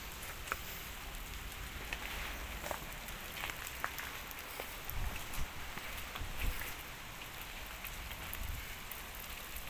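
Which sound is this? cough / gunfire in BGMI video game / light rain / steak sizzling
light rain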